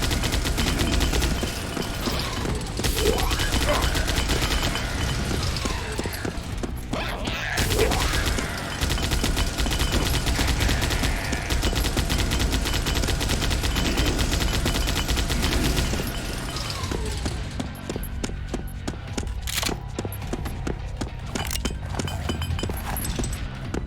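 A Gatling-style minigun roars in the shooter game DOOMBRINGER, pouring out long, rapid, continuous bursts of loud, close gunfire with short breaks between strings of shots.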